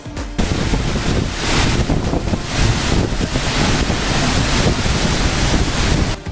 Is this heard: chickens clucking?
no